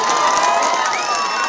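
A dense crowd roars and cheers at a Congress political rally in Shivamogga, with whistles cutting through a steady wash of noise that stays loud and continuous throughout.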